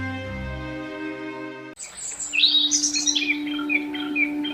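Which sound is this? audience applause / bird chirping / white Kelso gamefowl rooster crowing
bird chirping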